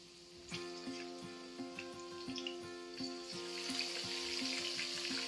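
Mutton tossed into well-sautéed onions for a green hariyali mutton curry sizzles in a pan, the steady frying hiss building while a spoon scrapes and knocks against the pan in a loose rhythm.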